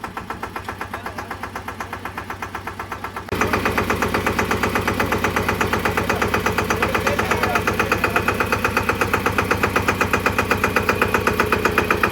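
A new tractor's engine idles with a steady, rapid knocking chug; it grows noticeably louder a few seconds in and keeps running evenly.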